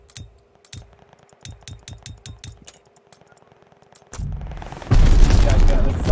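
Sharp gunshots in a Call of Duty arms race match hit a gate in a quick string of single cracks, near and loud, then give way to a heavy roaring burst of noise near the end.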